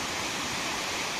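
A mountain waterfall in Neora Valley National Park roars as a steady, broadband rush of falling water, continuous and moderately loud with no voices.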